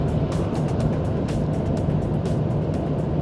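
The engine of a 2021 Kia Stonic, its automatic gearbox in sport mode, drones steadily as the car drives, a close, even, low rumble with no voices over it.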